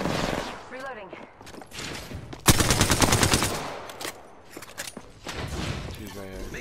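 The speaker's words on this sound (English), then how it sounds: "Shots. Firing." Rapid automatic gunfire from an Apex Legends match, a dense burst of shots lasting over a second, loud and close, with game voice callouts and in-game sounds around it.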